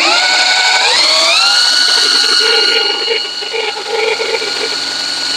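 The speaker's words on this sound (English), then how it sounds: "this drill probably only spins about 200 or 300 RPM" A power drill spinning a homemade permanent magnet alternator whines up to speed, its pitch rising then holding steady in a loud continuous mechanical drone.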